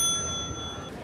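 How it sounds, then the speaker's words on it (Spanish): A single service bell rung at a cafeteria counter in the Netflix series Wednesday gives one clear ding that rings on and slowly fades, with nothing else alongside. "cuando Miércoles toca la campana de servicio"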